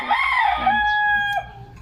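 A rooster in a backyard gives one loud, close crow, a rising and drawn-out call that ends sharply, with no talking.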